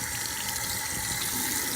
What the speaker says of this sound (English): And then I turn on my water here.